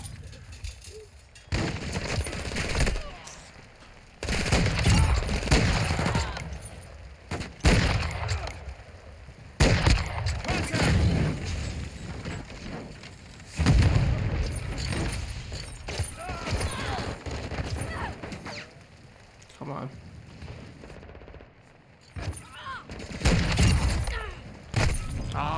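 Rapid bursts of automatic gunfire and explosions from the Call of Duty Modern Warfare II video game come in loud, dense clusters with short lulls between them, filling the whole stretch, while players talk over the action.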